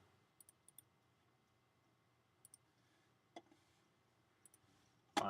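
Computer mouse clicks on a desktop, a handful of faint, sharp ticks spaced irregularly, some in quick pairs, with a louder click at the very end over quiet room hiss.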